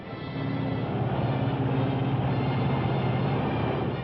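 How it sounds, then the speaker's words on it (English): A 1953 Lockheed Constellation airliner cruising on one engine with the others feathered gives a steady, unbroken propeller-engine drone, loud and constant with no voices. "On one engine."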